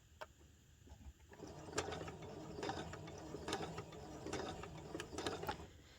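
A sewing machine stitches slowly over a nose wire casing on a fabric 3D face mask, giving faint close mechanical clicking and whirring in a rhythmic run of repeated ticks with no voices.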